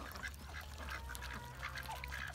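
A domestic duck in a farmyard gives faint, scattered quacks over a steady low background hum, distant and with no talk.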